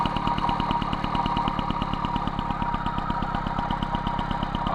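An MBK 51 Magnum moped engine idling during carburettor adjustment, a fast, even two-stroke putter with a steady pulsing rhythm, close and continuous with no talking.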